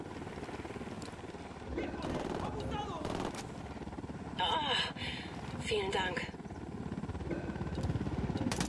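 A helicopter whirs in the video game Ghost Recon Wildlands under scattered in-game gunfire, fairly faint and partly masked by someone talking in German.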